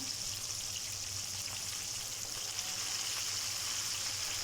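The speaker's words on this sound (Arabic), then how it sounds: "وبعدين بقليها في زيت يكون غزير جدا" Chicken wings coated in flour sizzle in deep hot oil, a steady dense crackle and hiss running without a break, fairly quiet.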